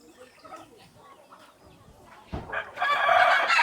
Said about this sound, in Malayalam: പൂവൻ കോഴികളും പെടക്കോഴികളും ഇഷ്ടം പോലെ ഉണ്ട്